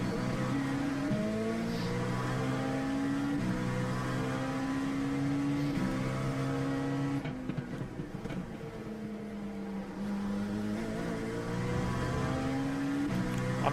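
Hypercar engines racing in iRacing at Sebring, several cars droning and whining at high revs with rising and falling pitches as they shift, loud and continuous with a brief dip midway.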